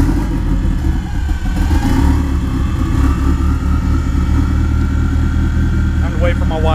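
A car engine with a wideband oxygen sensor fitted fires up and settles into a steady, loud idle, its low rumble continuous throughout, with a noticeably loud fuel pump and brief voices toward the end.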